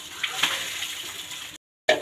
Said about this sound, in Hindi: ये देखिए पानी इस तरह बह रहा है